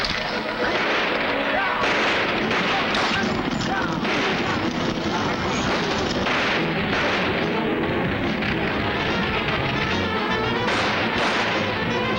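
Gunfire in an old Western shootout, dense rapid shots and booms layered over each other under continuous loud noise, with voices mixed in.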